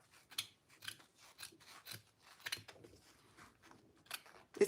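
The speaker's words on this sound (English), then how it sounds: "Let me cut off the excess here." Scissors snip repeatedly through excess fabric at a sewing table, a quick series of close, crisp cuts with short pauses between them, no talking.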